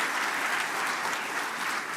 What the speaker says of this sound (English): Ladies and gentlemen, big round of applause for Mr. Murthy.